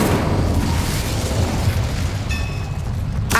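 In the Hogwarts Legacy video game, an Incendio fire spell erupts as a loud, sustained roaring blast that fills the whole moment, with a brief bright ringing tail near the end.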